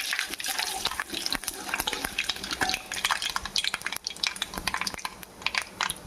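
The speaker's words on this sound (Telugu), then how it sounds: "మనం ప్రమాద గింజలు, పచ్చిపప్పు, జీలకర్ర, ఆవాలు వేసేసుకుందాం." Mustard seeds, cumin, chana dal and other spices crackle and sizzle in hot oil for a mushroom masala curry, a dense steady frying hiss with scattered sharp pops throughout, close and fairly loud, no voices.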